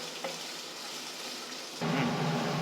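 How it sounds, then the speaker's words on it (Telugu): Vegetables for restaurant-style veg fried rice stir-fry on high flame, a close steady sizzle and crackle that swells louder near the end as the pan is stirred. "హై ఫ్లేమ్లో కంటిన్యూస్గా తిప్పుతూనే ఉండాలి, లేదంటే మళ్ళీ అడుగంటేస్తుంది."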